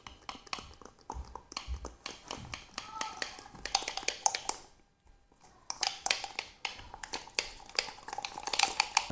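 Sourdough bread dough being mixed by hand in a bowl with four ingredients, no kneading: close, irregular sticky slaps and utensil clicks against the bowl, with a brief pause midway.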